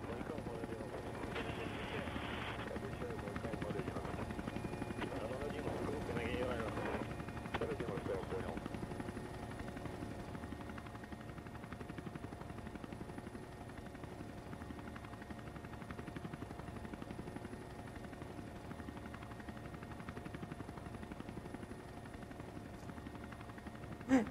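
Military helicopters fly over Russia's 2020 Victory Day parade, their rotors a steady, continuous drone that holds for the whole stretch while a voice talks over it.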